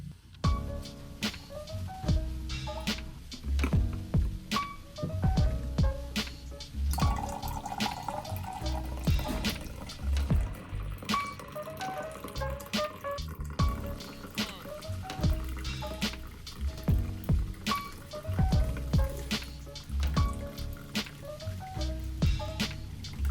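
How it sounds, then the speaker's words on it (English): Plain hot water filling a cup in a home kitchen, with irregular splashing and pouring alongside clinks and handling noises, fairly soft and close, continuing for a while without talk. "I fill this with just plain hot water, my cup, to heat my cup first"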